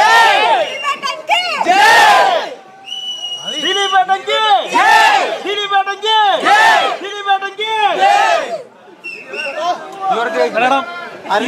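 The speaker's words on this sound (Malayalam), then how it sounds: "ഇവരുടെ കൈയടിയാണ്" A big crowd of fans cheers and chants at a film success celebration with actor Dileep, loud rhythmic group shouts rising and falling in waves with short pauses between bursts.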